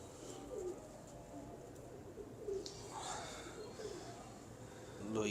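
Pigeons coo softly in a few low, rolling calls scattered across the scene, faint and somewhat distant amid quiet background noise.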